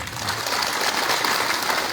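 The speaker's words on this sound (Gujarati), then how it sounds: "જોરદાર તાળીઓથી બહેનોને વધાવો" A rally crowd applauds for the women present with dense, sustained clapping that fills the space loudly and evenly for about two seconds.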